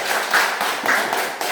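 A school class applauds together in a classroom, a dense, steady patter of many hands clapping at once, close and fairly loud, with no talking over it.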